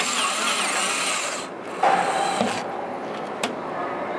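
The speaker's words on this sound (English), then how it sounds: "I'm gonna drill that" A power drill bores a hole in a plastic cloner for a high-pressure aero kit, a steady whirring grind that eases off midway, followed by a brief scrape and a sharp click.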